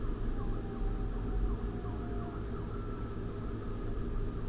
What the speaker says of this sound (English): You hear those sirens out there?